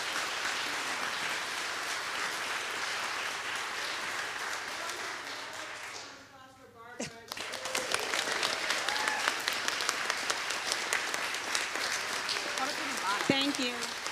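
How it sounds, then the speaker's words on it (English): Audience applause after a youth musical, broad sustained clapping with a brief dip midway before resuming strongly, with some cheering voices mixed in. "Let's give these kids another round of applause"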